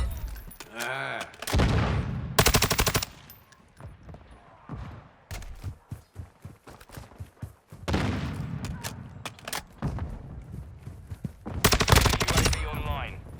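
Bursts of automatic gunfire in Modern Warfare 2 multiplayer ring out loud and close in several rapid volleys, separated by quieter gaps filled with game sounds and brief radio voices.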